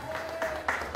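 Audience applause for a rock singer at an anniversary show, a brief burst of clapping with a tonal whistle or cheer running through it, swelling in short waves.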